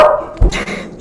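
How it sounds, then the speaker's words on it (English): A pet dog at home gives a single short, loud, close bark, followed by a brief fading tail. "Sorry for my dog."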